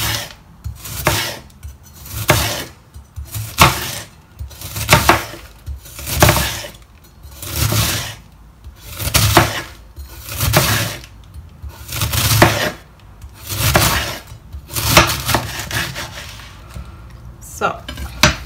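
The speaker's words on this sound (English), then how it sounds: "I'm just going to slice it very thinly. Take a big knife" A big knife slicing cabbage thinly for sauerkraut, with regular crisp crunching strokes landing on a board about once a second, loud and close with no talk.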